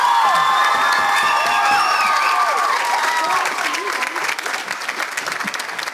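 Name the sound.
audience applause and cheering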